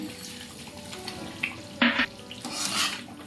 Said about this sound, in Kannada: ಇದನ್ನ ನೋಡಿ ಹೇಗೆ ಕುದೀತಾ ಇದ್ದೇಳಿ.